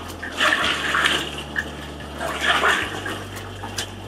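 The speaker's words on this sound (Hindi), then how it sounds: "ये आ गया जी पानी इसके ऊपर," Water poured over food in a cooking pot at a street stall making chole bhature and kadi chawal: two gushing splashy pours, close and moderately loud, over a steady low hum.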